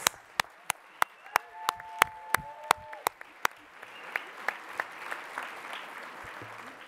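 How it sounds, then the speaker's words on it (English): A small audience at an awards show claps sparsely, with distinct, separate claps in an irregular rhythm over a quiet room and a faint tonal hum early on, thinning out toward the end. "let's hear a huge round of applause for our very brave pitchers"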